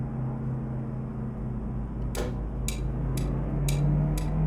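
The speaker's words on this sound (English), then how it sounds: "that is a loud turn signal for a little sports car" A turn signal clicking in a small sports car in a driving video game, night highway driving: five sharp, evenly spaced ticks about half a second apart, loud and close over a steady low engine and road drone.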